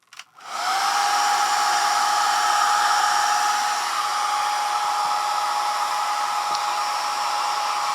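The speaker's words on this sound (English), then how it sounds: "So I think what I'll try now is the hair dryer" Hair dryer powered by a Jackery Solar Generator 1000 Plus switches on and blows steadily, a loud, even rushing whir close up, with no talk.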